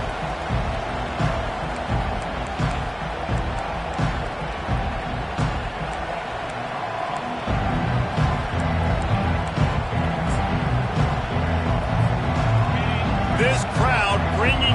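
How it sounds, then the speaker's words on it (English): A packed stadium crowd at a football game roars at a steady, loud wash, swelling even louder partway through as the home fans greet the visiting team. "This crowd bringing an ear-splitting welcome to their visitors."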